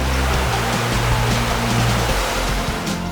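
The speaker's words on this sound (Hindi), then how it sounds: "स्वच्छ बहता पानी," Clear water flowing in a Himalayan mountain stream in Barot Valley, a steady, loud broadband rush with no breaks and no voices, with low rumbling underneath that stays continuous throughout.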